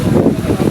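Strong typhoon wind buffeting the microphone, a low, rumbling roar with gusty surges throughout.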